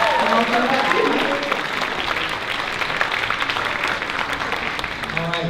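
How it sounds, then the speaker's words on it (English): An audience applauds performers at a community fundraising anniversary event, sustained clapping from a crowd throughout, with a speaking voice over it at the start and again as it fades. "One last round of applause for our amazing performers."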